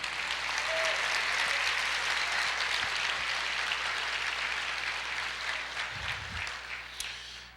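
A church congregation breaks into sustained, loud applause that fills the room as a dense wash of clapping, holding steady before slowly tapering toward the end.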